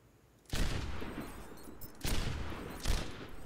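Gunfire in an Overwatch aim-training mode, three sharp bursts of shots spaced about a second and a half apart, loud against a quiet game background.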